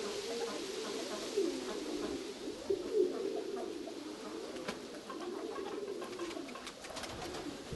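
Domestic pigeons coo steadily in a loft, with repeated soft rolling calls layered over one another at close range, without speech.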